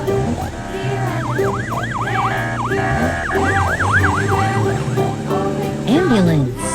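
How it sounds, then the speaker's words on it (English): A cartoon ambulance siren wails in rapid up-and-down bursts over a children's song with music, ending with a rising and falling swoop. "Ambulance. Blue."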